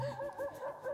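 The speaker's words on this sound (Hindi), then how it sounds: "अरे तेरा शेरू रो रहा है।" A dog whimpers in short, high, wavering whines, repeated several times in quick succession, close and clear.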